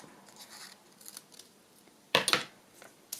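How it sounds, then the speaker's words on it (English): Scissors cut paper for a window envelope pocket, a few quiet snips early on followed by a louder, close crisp burst of crunching cuts, then one more sharp snip at the end. "I'm going to have to do it with the scissors"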